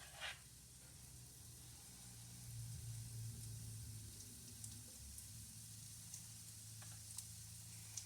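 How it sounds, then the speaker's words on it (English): Hot water cornbread frying in hot grease gives a soft, steady sizzle with faint crackles and pops, quiet and continuous throughout. "we're just going to let those fry"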